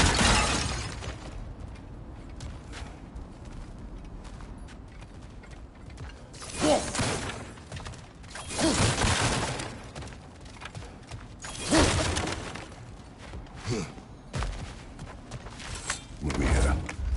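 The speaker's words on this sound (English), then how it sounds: "back to smashing through things for fun and profit" Crates and objects smashed apart in God of War Ragnarök, several loud wooden cracks and shattering bursts spaced every few seconds over a low ambient bed, with voices talking at times.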